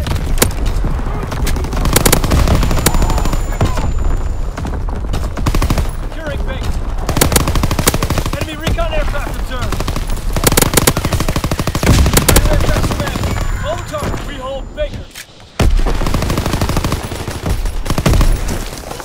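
Sustained video-game gunfire mixes with an anti-aircraft battery firing in a loud war-game battle: dense machine-gun bursts and heavy booms run almost continuously, with a voice heard over the shooting and a brief near-silent gap before the fire resumes.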